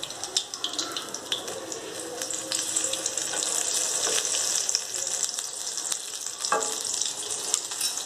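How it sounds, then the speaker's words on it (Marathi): Cucumber bhaji pakoras deep-frying in hot oil at a roadside dhaba in Pune, a dense, steady sizzle and crackle throughout with occasional clinks of stirring, no speech. "तर अशा प्रकारे भजी तळत आहोत"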